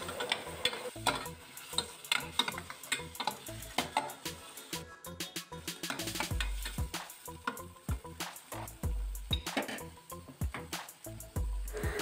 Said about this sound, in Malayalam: എന്നിട്ട് നമ്മളിതൊക്കെ നന്നായിട്ടൊന്ന് ഇളക്കി കൊടുത്ത് പൊടിയൊക്കെ ഒന്ന് മൂപ്പിച്ചെടുക്കാം